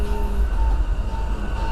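Inside a moving passenger train on an overnight trip toward DC, a steady low rumble and rolling noise fills the cabin, with faint tonal hums and a continuous droning background and no talking.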